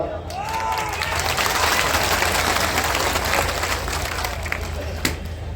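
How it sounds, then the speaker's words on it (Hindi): Crowd applauding at an outdoor political rally in Supaul's Gandhi Maidan, Bihar, a loud, sustained roar of clapping with some cheering mixed in, brief voice traces at the start. "आपकी ताली की आवाज से"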